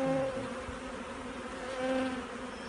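Honey bees buzz steadily around an open hive during a swarm-control inspection, a dense, continuous drone with a few louder passes close by and no voices.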